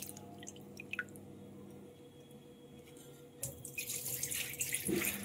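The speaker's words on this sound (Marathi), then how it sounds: "एक दोन पाण्याने चांगलं धुवून घेते." Rice is rinsed under a running kitchen tap, with water trickling and dripping quietly at first before the flow grows louder and splashier into the vessel during the last couple of seconds.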